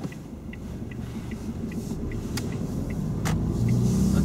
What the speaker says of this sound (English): first gear, look to the right and move off.